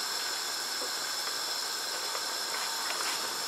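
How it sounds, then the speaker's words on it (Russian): Lecho, a vegetable stew with eggplant, is brought back to a boil in a pot, giving a constant close hiss with faint scattered bubbling pops and no voices. "И доводим снова до кипения."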